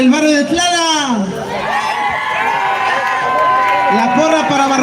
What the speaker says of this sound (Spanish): Nuevamente que se escuche el aplauso, mi gente.